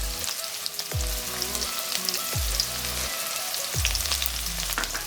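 Small onions and green chillies fry with cumin in hot oil, giving a steady crackling sizzle with periodic low thumps of stirring throughout, close and moderately loud.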